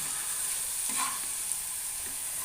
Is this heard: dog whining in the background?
no